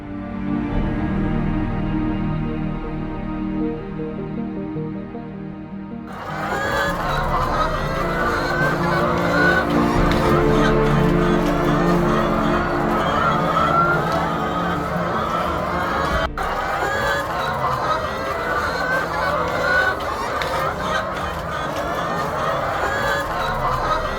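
A flock of chickens on a Nigerian poultry farm clucks and squawks continuously, a dense overlapping chorus that fills the whole clip after a quieter, humming opening.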